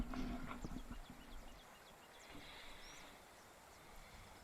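Faint, distant horse hooves clip-clopping from a centaur in The Pillars of the Earth video game, soft and steady under low ambient game noise.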